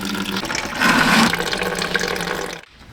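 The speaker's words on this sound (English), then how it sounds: "We'll start by draining the radiator." Coolant drains from the radiator of a 1995-2004 Toyota Tacoma into a bucket: a steady, close splashing pour that swells briefly, then cuts off near the end.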